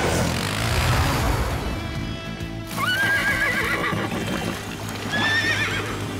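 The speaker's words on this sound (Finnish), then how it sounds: "Poni nimeltä Poniisa." A cartoon pony in a PAW Patrol episode gives two shrill whinnies a few seconds apart, over hoof clip-clops and background score.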